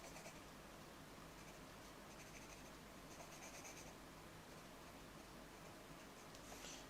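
Pencil sketching a building on paper in broad strokes, a continuous soft graphite scratching and rasping with slight swells, close and quiet against a noisy hiss, no talking.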